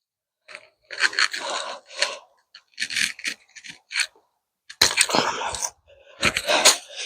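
Snipping and scraping as a new tulip shoot is cut back in a garden, several short crisp cutting and rustling bursts with pauses between, close and fairly quiet.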